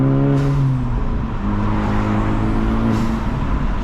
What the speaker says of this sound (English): you can hear the, you know, the exhaust a lot better